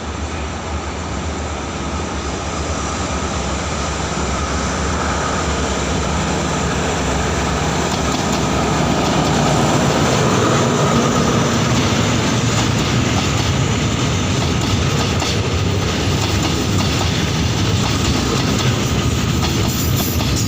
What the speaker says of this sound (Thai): อันสตอม MTU นะครับ หมายเลข4 1 2 1 ครับ มาแล้วครับ